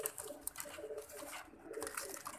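Soft pigeon cooing nearby, low murmuring calls repeating over faint background rustle, quiet and continuous.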